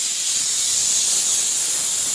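A pressure cooker boiling small potatoes gives a steady, loud, continuous hissing whistle of escaping steam that holds at one level for the whole stretch, with no talk over it.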